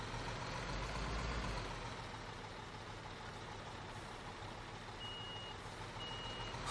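Truck in Construction Simulator 2015 backing up, with a steady diesel engine rumble and two short, high reversing beeps near the end.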